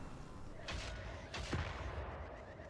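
Missile fire in the space game Worbital, two sharp blasts in quick succession over a steady hum of background noise.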